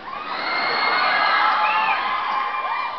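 A concert audience member screams at The Orpheum, blending into a loud, sustained crowd roar of high-pitched shouts and cheers lasting the whole moment.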